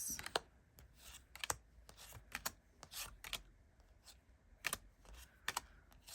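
A Flower Speaks tarot deck is shuffled by hand, giving close, crisp card riffles and flicks in irregular bursts, with a few brief sharp clicks and no talk.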